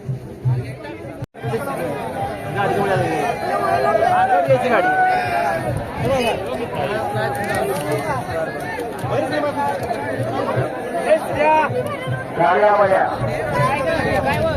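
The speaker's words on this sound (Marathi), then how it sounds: "खूप भारी शर्यत चालू आणि खूप लोकांची गर्दी इथे पाहण्यासाठी" A large, dense crowd of spectators chatters and murmurs continuously at a bullock cart race, a steady loud babble with no pauses.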